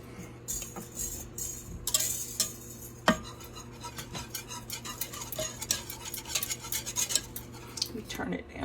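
A small whisk stirs creamy shredded ham in a crockpot, giving light metallic clinks and scrapes against the pot at an irregular rhythm over a steady low hum, close and fairly quiet.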